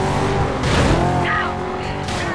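Corvette in Need for Speed Carbon roaring at high revs, with a tire-skid squeal partway through, loud and continuous over a short burst of racing game audio.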